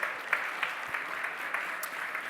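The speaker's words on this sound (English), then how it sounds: "I just want to give everyone to give a round of applause for Trooper Sanders for that keynote." Audience applause in a summit hall after a keynote talk, a steady wash of clapping from a large crowd at moderate level with a few sharper claps standing out, no talk over it.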